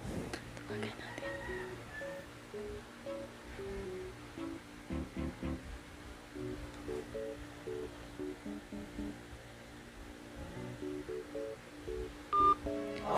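Telephone keypad dialing tones on a phone placed for a prank call, a few short beeps amid low background rumble and faint murmuring nearby.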